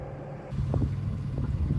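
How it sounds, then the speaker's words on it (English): Twin engines of a sailing catamaran off Thailand's west coast run forward, a steady low rumbling drone that rises slightly after the first half second and holds, with faint wind and brief distant voices. "Port engine forward. Both engines forward."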